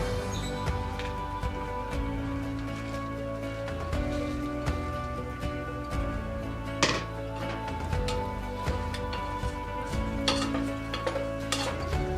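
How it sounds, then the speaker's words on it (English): Noodles being stirred together with seasoning, butter and Parmesan in a pot, giving steady soft scraping and clinking of a utensil against cookware, with a few sharper knocks, close and alone with no talking, over a constant low background hum. "Then adding in our seasoning, half of our butter, and all of our Parmesan, stirring until well combined."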